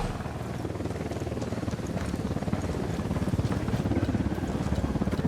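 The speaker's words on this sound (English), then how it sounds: "Chopper incoming" Helicopter in the video game Ghost Recon Wildlands closing in during a firefight: a steady, loud rotor drone with rhythmic chopping pulses that grows slightly louder over the clip, mixed with game ambience.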